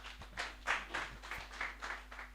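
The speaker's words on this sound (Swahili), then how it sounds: "Tumpige makofi vizuri tafadhali." An audience applauds at a community self-help group capacity-building meeting, with a short stretch of scattered, rhythmic hand clapping from a modest crowd, fairly faint and uneven.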